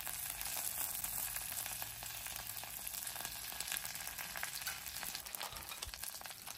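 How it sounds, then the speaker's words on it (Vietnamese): Lemongrass and ginger leaves stir-frying in a hot pan, giving a steady, close sizzle with crackling spatter throughout and no voices. "Cái lá xả lá gừng mình cho vô mình xào sơ á"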